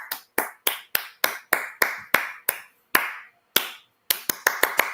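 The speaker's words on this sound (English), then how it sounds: "I can't stop clapping." A single person claps hands in sharp, close, dry bursts, first evenly spaced with short pauses, then a quicker run of claps near the end.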